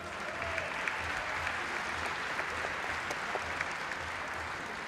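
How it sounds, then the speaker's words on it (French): Steady applause from a crowd in an arena at a French national archery championship final, honouring the new champion, with a faint, even patter and no voices rising above it. "je crois qu'on peut l'applaudir."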